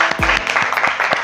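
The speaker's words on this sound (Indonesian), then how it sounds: "Boleh tepuk tangan buat Alia." Schoolchildren in a maths class give a short burst of clapping, a quick flurry of handclaps lasting only a moment, with a voice briefly audible.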